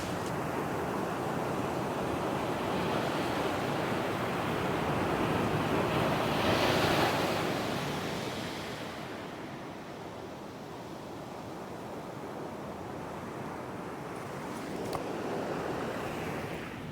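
Ocean waves crash and roar steadily onto a wild west coast beach, a continuous loud wash of surf with wind rushing across the microphone and no voices.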